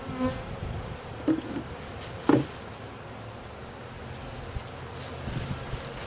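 Honey bees from a massive hive being removed, a steady close buzzing drone of many insects throughout, with a few brief knocks or bumps standing out over the hum.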